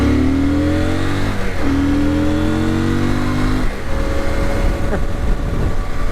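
A CFMoto Ibex 800E motorcycle accelerates up to speed, its loud engine note climbing in pitch through several gear changes with brief dips between, heard close with wind noise.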